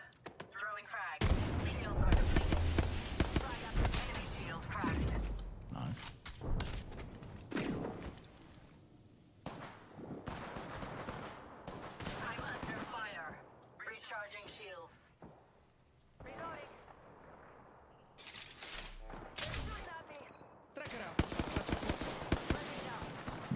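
Gunfire in the video game Apex Legends comes in repeated loud bursts of rapid automatic fire with sharp single shots and thuds between them, separated by short lulls, while a voice speaks intermittently.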